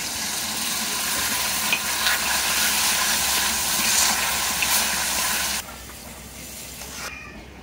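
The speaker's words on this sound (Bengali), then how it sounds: "চিনির শিরাটা ফুটতে শুরু করেছে" Sugar syrup for an olive pickle, made with mustard paste and dried chili powder, bubbles and hisses steadily in a pan. The boil is loud and continuous, then drops noticeably quieter near the end.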